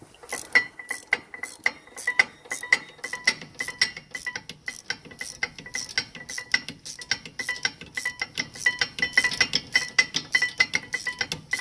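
Ratchet wrench torquing the rear brake bolts on a Volvo XC90, giving a steady run of sharp, close metallic clicks in quick rhythmic bursts across the whole stretch, with no talking.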